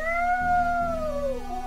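A cat in a Gronkh gameplay setting gives one long, drawn-out meow that slowly falls in pitch, clear and close with no talking over it, against a steady low electronic hum.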